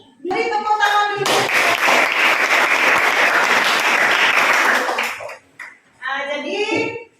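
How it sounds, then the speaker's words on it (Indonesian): A burst of lively applause from a group in a teacher training session fills several seconds, bracketed by voices talking just before and after. "Beri tepuk tangan dulu."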